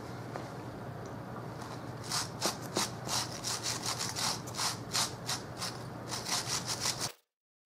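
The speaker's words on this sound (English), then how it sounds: "I've got a paint scraper." A metal paint scraper drags across blue denim jeans in a run of about a dozen rhythmic, rasping strokes, close and clear. It starts after about two seconds of quiet and stops abruptly.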